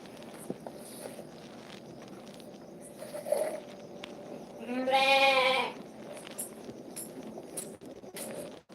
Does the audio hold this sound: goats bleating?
yes